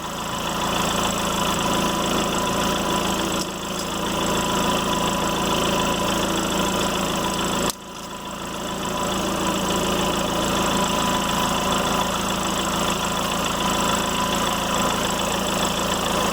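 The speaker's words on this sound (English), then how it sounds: "you need to leave the vehicle running for this." A 2015 VW Jetta engine idles steadily at close range during a DSG transmission fluid change, a continuous even hum with faint vibration and two brief dips, no talking.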